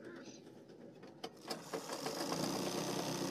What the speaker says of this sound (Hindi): यहाँ पर पूरी बेल्ट पे सिलाई लगा दें